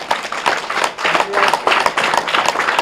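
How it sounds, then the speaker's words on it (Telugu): Meditation participants keep clapping loudly in unison, a thick, continuous flurry of close hand claps that lasts the whole short stretch. "గట్టిగా క్లాప్స్."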